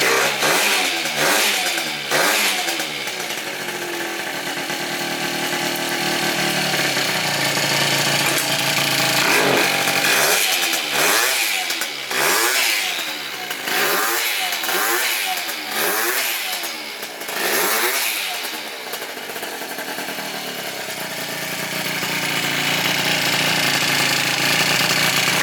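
A 70cc Yamaha Zuma scooter engine runs loud and close, buzzing steadily and then revving up and down in a rhythmic series of throttle blips before settling back to a raspy idle.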